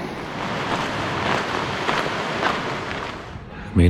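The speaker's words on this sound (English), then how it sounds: "There's water coming up out of the trail." Steady, loud rushing of water pouring up out of a rocky Grand Canyon trail near the Colorado River, a broad continuous wash with wind buffeting the microphone and a brief thump at the end.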